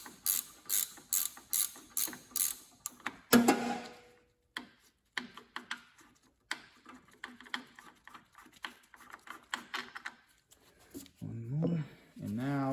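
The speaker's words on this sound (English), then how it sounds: "It's a lot easier with a ratcheting one if it'll fit." Ratchet wrench loosening 17 mm bolts on a VW Beetle Type 1 engine, with rapid, close clicking in short repeated bursts and some clanks from metal tools.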